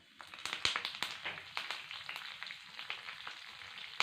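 Mustard seeds, cumin and curry leaves crackling in hot oil in a pan for a potato fry, a dense run of sharp popping spatters and sizzle, fairly close but soft in level, with no voices.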